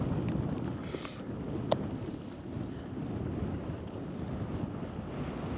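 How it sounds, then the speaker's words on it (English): Steady wind roaring across the sand dunes at Great Sand Dunes in Colorado, a continuous loud rush buffeting the microphone with one brief sharp tick partway through, no voices. "as the wind is picking up now, you probably could barely hear us"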